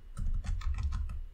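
Rapid typing on a computer keyboard while writing code, a dense run of crisp, close key clicks with no talking.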